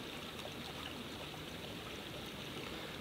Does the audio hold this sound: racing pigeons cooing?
no